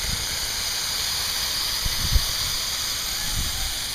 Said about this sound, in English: We got Toro 640 heads, which are going to shoot about 60 feet